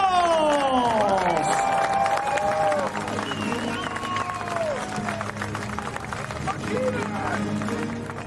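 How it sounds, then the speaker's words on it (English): Steady crowd applause and cheering at a para-cycling road world championships medal ceremony fill the whole stretch, with an amplified announcer's voice and sliding tones rising over the clapping. "please, one more time, your applause for our medalists"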